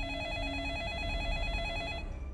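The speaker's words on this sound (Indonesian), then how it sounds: "Kemudian telepon pun berdering." A telephone rings in a film scene, a steady repeating electronic bell warble continuing throughout, moderately loud over a low background rumble.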